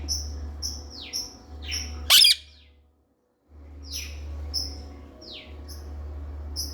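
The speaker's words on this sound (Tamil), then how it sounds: "கியா கியா அப்படிங்குது. வந்தா கத்துதா, சவுண்டு உனக்கு கேட்குதா?" A small bird calls near its nest, sharp repeated chirps with a falling tone coming in quick bursts over a steady low hum, with one loud rustle or clatter partway through and then a short silent gap.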